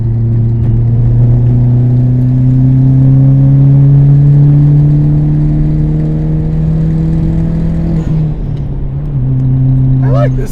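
A modified Hyundai Genesis Coupe 2.0T turbo four-cylinder pulls hard from inside the cabin, its engine note droning loud and rising steadily through a long gear, then dipping briefly at a shift before climbing again.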